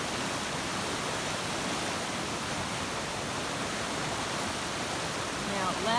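A creek swollen by heavy August rains roars as a steady, dense wash of broadband noise, loud and unbroken throughout, with a brief soft voice near the end.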